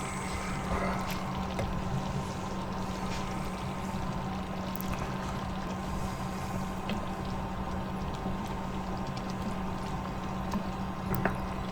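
Chicken fricassee simmers in an uncovered pot, giving a steady, soft bubbling hiss that holds evenly throughout with no talk.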